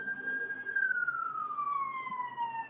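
A single siren wails with a slowly falling tone that holds steady and then drifts lower, moderately loud over a faint background rumble.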